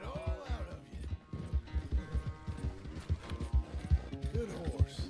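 A horse's hooves clip-clop in a steady, rapid rhythm in Red Dead Redemption 2, continuous and fairly close, with game voices and ambience layered over the hoofbeats.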